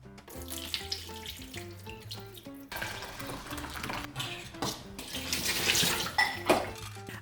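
Sticky rice being rinsed under a running tap in a kitchen, with a steady stream of water splashing over the grains and soft stirring and sloshing that grows louder toward the end.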